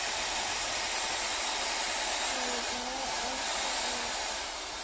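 Dyson Supersonic hair dryer running, a loud, steady, close airy whoosh with a faint high whine on top, holding constant throughout with no talk over it.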